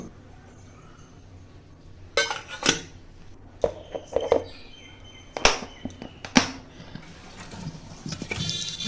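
Okra and potato curry is served out with metal utensils, bringing irregular sharp scrapes, clinks and taps against pots and plates, close and moderately loud, with no talking.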